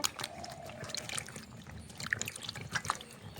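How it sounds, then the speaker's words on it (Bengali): Peeled pointed gourd being washed by hand in water, with close splashing, trickling and sloshing, irregular and fairly quiet. "ভালো করে ধুয়ে নেব"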